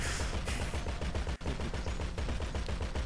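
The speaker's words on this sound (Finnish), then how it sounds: "Anna kun mä ammun vielä hetken tätä." Rapid automatic gunfire in the video game GTA, a fast loud rattle of repeated shots that continues steadily with a brief break midway, with no voices over it.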